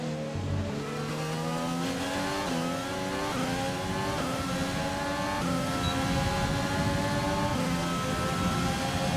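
A Formula 1 car's high-pitched engine screams through gear changes on a qualifying lap at Bahrain International Circuit in F1 2020, rising and dropping in steady steps, loud and continuous.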